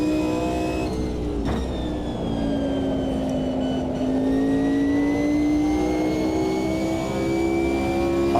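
Race car engines rev hard in the sim racing game Automobilista 2, a loud continuous roar whose pitch climbs and shifts as the cars accelerate, with no talking.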